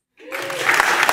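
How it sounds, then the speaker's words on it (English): Applause rises from silence at an awards ceremony for websites, a crowd's clapping swelling quickly and holding at moderate loudness for the brief moment. "Pause for applause."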